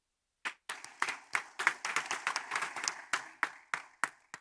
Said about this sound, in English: Can we appreciate Carol with a round of applause